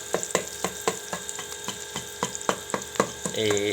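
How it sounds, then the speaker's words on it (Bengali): Eggs beaten with a little salt and oil in a rice cooker pot, a run of sharp, evenly spaced clicking strokes close by, ending with a brief hiss of frying. "এভাবে এগুলো আসলে গুঁড়ো করে নিচ্ছি মানে ফেটিয়ে নিচ্ছি ডিমটা"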